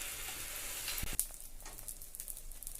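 A potato and egg omelette mixture poured into hot oil in a pan sets off a steady frying sizzle, with a sharp splash as the batter hits and soft crackling after.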